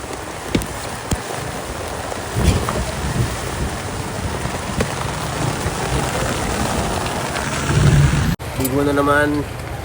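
Steady rain falls outdoors in a dense, continuous hiss, with a few louder splashy bursts and a brief voice near the end.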